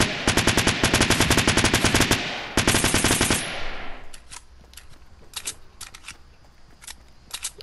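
Automatic weapon fire in Fortnite, a rapid, steady stream of close shots lasting a few seconds with a brief gap, then fading into scattered quieter pops and clicks.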